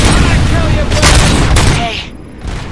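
Loud, dense bursts of gunfire from thugs in RoboCop: Rogue City, rapid overlapping shots and booms in heavy rolling waves, easing to a quieter tail with a faint voice under the noise.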